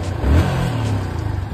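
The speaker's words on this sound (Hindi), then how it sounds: "तो अभी बाइक हो रही है कोल्ड स्टार्ट" A motorbike engine cold-starting and revving on a foggy morning road, a low rumbling idle that swells briefly early on and then settles into a steady, close, fairly loud throb with no talking.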